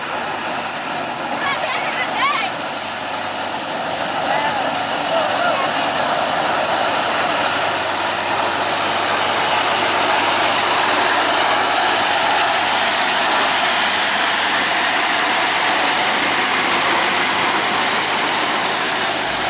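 A sugar cane train locomotive at the Kedawung sugar mill idles with a steady, close engine rumble and broad mechanical hiss that runs on evenly throughout.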